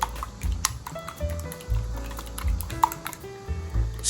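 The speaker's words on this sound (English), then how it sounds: "Stir until well blended." Three eggs being whisked in a bowl for steamed eggs, giving a steady run of quick, light clicks and taps against the bowl, close and fairly loud, with no talking.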